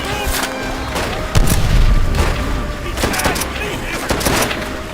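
A grenade blast booms in Call of Duty: World at War amid rattling gunfire, with a deep thump in the middle and sharp shots scattered around it, and someone talks over the battle.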